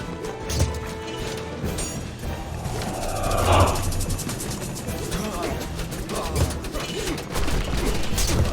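Slingers firing in Age of Mythology during a busy battle with camel riders and a siege tower, heard as a dense mix of rapid projectile impacts and clashing combat noise that runs continuously, with some crashing swells.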